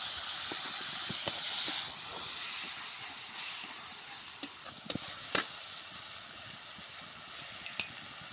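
Soft, steady hissing sizzle of ground spice paste frying in oil, broken by occasional sharp pops and crackles, fairly faint and without voices.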